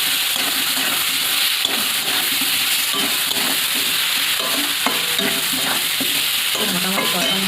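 Ground coriander and fennel paste frying with turmeric in oil, a dense, steady sizzle and hiss with repeated scraping strokes from stirring throughout.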